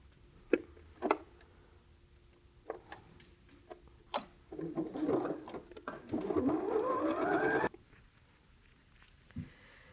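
A sewing machine stitches quilt block pieces in one steady run of about three seconds, after scattered clicks and taps as the fabric is handled, close and moderately loud in a quiet room.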